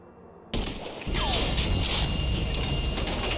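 Gunfire in the video game GTA V: a loud burst of shots opens abruptly, then continuous dense firing and crashing noise carries on steadily to the end, with no talk over it.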